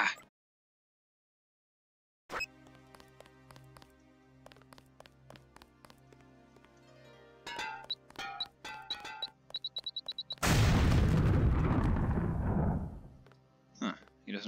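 Explosion in the video game Deus Ex, set on Paris streets: a loud broadband blast lasting about two seconds near the end, preceded by rapid clicks and clinks, with no talk.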